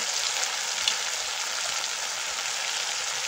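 Spice paste with ginger, turmeric and salt frying in a pan, a steady soft hiss of sizzling oil without talk.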